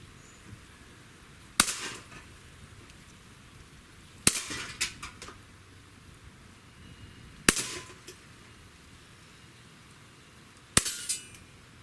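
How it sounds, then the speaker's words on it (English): Smith & Wesson M&P 40 pistol fired at a target, four loud, sharp shots spaced a few seconds apart outdoors, each followed by a brief ringing echo and clatter. "I'm just going to aim dead center in that target, and then we'll see where we hit."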